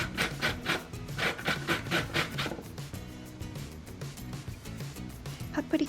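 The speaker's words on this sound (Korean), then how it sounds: "오이를 강판에 갈아줍니다." Half a peeled cucumber rubbed against a kitchen grater, giving a run of rhythmic rasping strokes, strongest over the first few seconds and then settling into lighter scraping, close up with no talking.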